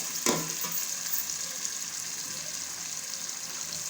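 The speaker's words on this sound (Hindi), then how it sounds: "ये हम मूली डाल रहे हैं" Grated radish dropped into a pan of frying chicken in oil sets off a sharp burst of sizzling, settling into a steady close crackle that runs on without talk.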